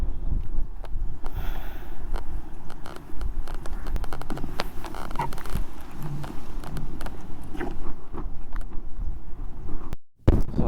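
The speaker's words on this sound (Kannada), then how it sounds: "ಆ ಕಡೆ ಗಾಳಿ ಇದೆ, ಹೆವಿ ಗಾಳಿ ಇದೆ" Heavy wind at Lodwick Point, Mahabaleshwar, buffets the microphone in a continuous loud, low roar with gusty swells, and a brief dropout comes near the end.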